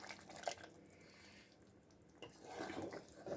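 Boiled water is poured from a cup into a cooking pot on a gas stove, a faint trickling and splashing with a soft burble, quiet and close, with no talk.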